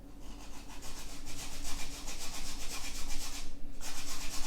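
Grana Padano cheese rubbed against a grater in a home kitchen, giving a steady, close, rhythmic rasping scrape that runs for several seconds with one brief pause near the end and no talking.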